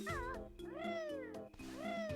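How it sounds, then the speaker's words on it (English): A cat named Pikachu meows three times in quick succession, each call a clear rising-and-falling tone, close and distinct with a faint voice underneath. "that's Pikachu the cat"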